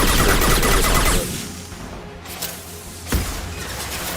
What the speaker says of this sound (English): Can't hear you all over the gunfire.